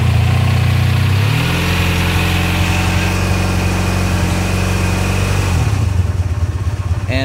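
Cold Honda VF500F motorcycle idling on half choke while it warms up: a steady, close, throbbing engine hum that holds even, then shifts pitch slightly and settles, with no talk.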